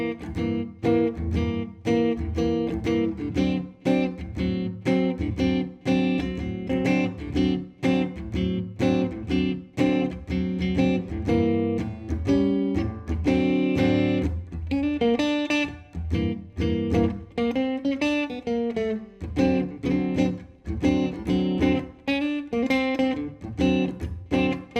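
Minor-key bridge of a song on piano, built on only a few chords, played as rhythmic comped chords with a melodic line in a steady, continuous passage, no voices present.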